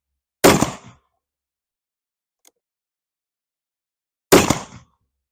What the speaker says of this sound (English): That's 6 shots off the bench, aiming at the red dot in the center.